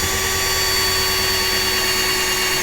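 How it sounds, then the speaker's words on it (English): A power drill with an oversized bit drills out a rivet on the base of an Auto World Chevy truck, giving a steady, continuous whirring whine at close range for the whole stretch, with no talking. "I'm going to go ahead and start by trying to drill out one rivet"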